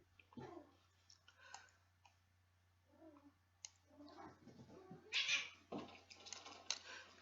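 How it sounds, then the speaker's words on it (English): Cats meowing faintly in the background of a quiet room, several scattered mews and brief clicks with long gaps between them. "Ignore the cats in the back."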